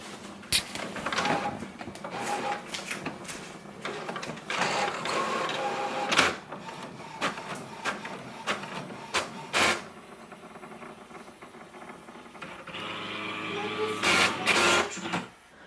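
An HP OfficeJet Pro 8135e inkjet printer making a copy whirs and clicks as its print head shuttles back and forth, with mechanical clunks and a soft motor hum, close by.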